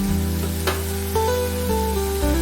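Ground turmeric, roasted cumin and Kashmiri chilli powder sizzle steadily in hot oil for a doi katla fish curry, a continuous close frying hiss with a few soft stirring scrapes and no talk.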